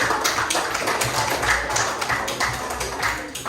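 Group applause at a school class, dense steady clapping from many hands filling the space at close range without a break.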